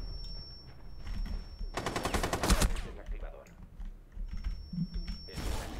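Gunfire in the video game Rainbow Six Siege, a rapid burst of automatic shots in the middle and another at the end, over quieter game ambience and scattered clicks.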